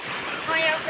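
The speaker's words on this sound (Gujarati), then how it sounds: "અહીંયા જો નદી જાય છે" A river in flood runs past a village, giving a steady, close rush of churning water that fills the whole moment without letup.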